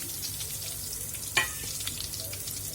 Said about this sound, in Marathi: कांदा लालसर रंगाला येऊपर्यंत आपल्याला छान या मसाल्यासोबत कांदा भाजून घ्यायचा आहे.